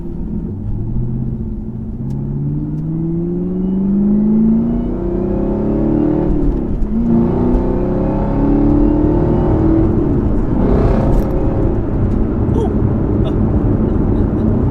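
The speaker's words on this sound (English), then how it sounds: "I don't know if you can hear the supercharger whine on here" A car with a Rotofab intake and supercharger drives along with a steady engine drone and rising, sweeping whine tones that climb and fall under the motor, loud and close throughout, with a voice talking over it.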